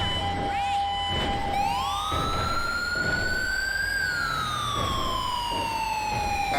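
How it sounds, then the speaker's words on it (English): Loud wailing sirens from emergency vehicles, a steady tone sweeping upward then slowly falling, with rumbling traffic and faint voices underneath. "I know you guys probably can't hear me over the sirens"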